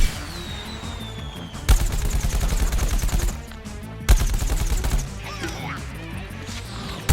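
Rapid gunfire in Plants vs. Zombies: Garden Warfare, on Main Street with a foot soldier, arrives in two loud sustained bursts of automatic shots separated by quieter game ambience.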